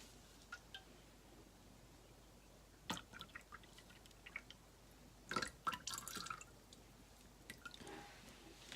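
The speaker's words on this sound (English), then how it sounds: "right now I'm going to put the lye water in." Lye water solution drips and splashes in short bursts against a quiet background during small-batch soap making, with a louder pouring splash partway through.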